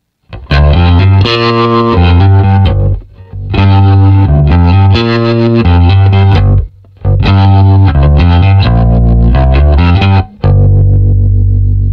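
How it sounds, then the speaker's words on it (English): A Rickenbacker bass guitar through an HX Stomp XL tremolo effect plays loud, heavily processed pulsing notes, in phrases separated by short gaps, ending on a sustained tone. "Here's our tremolo."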